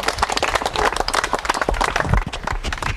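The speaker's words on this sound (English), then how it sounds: "You guys are the ones that deserve the clap." A group of people claps and cheers for a forest protest campaigner. The applause is dense, energetic and close, carrying loudly for a few seconds.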